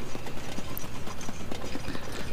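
Horse hooves clip-clop in a quick, even rhythm of steady beats in Zelda: Breath of the Wild, close and moderately loud over a hissy game background.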